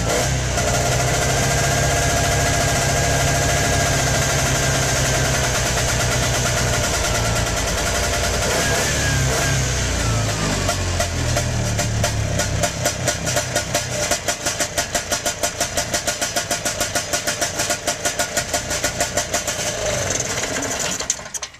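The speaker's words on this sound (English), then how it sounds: "Rotax 18 horse engine, usually put into the 1968 Olympic snowmobiles" Rotax 18 hp engine on a 1968 Sea-Doo catching and running, a steady close buzzing drone that settles into a fast rattling idle with regular rapid pulses toward the end.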